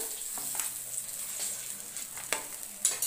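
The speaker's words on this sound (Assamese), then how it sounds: "এয়া মই মাছ ভাজি আছোঁ" Fish sizzles in hot oil with a steady high crackle, broken by a few clinks and scrapes of a utensil.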